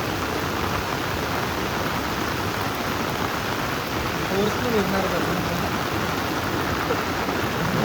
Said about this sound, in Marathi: आता पाऊस फोर्सने आला की फोर्सने पाणी चालू झालं लगेच